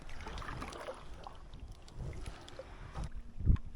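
Kayak paddling on Lac Le Jeune, soft rhythmic paddle strokes and water swishes under steady wind noise, close to the microphone, ending with a louder splash or knock against the boat.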